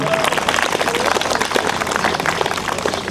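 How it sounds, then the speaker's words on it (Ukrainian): Dense, continuous clapping from a gathered audience at a school last-bell ceremony, honoring a chemistry teacher, filling the whole moment at full volume. "Привітаємо його оплесками."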